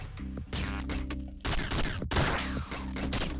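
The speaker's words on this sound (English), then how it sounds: "Shooting blocks shoots out blocks." Rapid digital gunfire from a gun shooting blocks in the video game Downwell, dense repeated shots layered over game music, loud and continuous.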